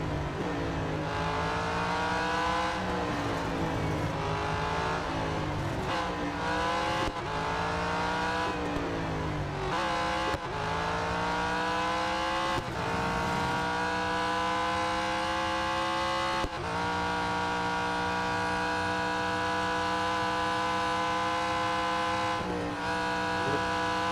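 Race car in the Real Racing 3 mobile game, its engine screaming loud and continuous through repeated gear changes and rising revs, with tires hissing beneath.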